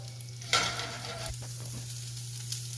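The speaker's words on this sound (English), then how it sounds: "you can hear that nice little sizzle here that we have going on here" Brussels sprouts sizzle and crackle softly in a hot pan, with a brief stirring scrape near the start over a steady low electrical hum.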